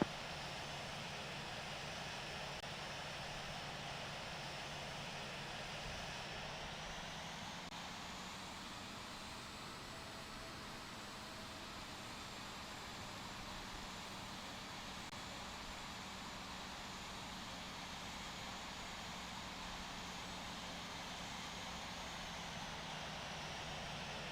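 Vietnam Airlines airliner engines roar through the takeoff roll in the Infinite Flight simulator, departing Hanoi for Beijing. The sound is a steady broadband drone that swells slightly partway through and continues unbroken without talk.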